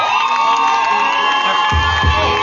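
A wedding crowd cheers and shouts with whoops at full volume, a dense continuous roar lasting throughout.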